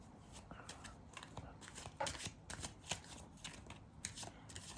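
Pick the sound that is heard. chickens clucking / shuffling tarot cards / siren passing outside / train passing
shuffling tarot cards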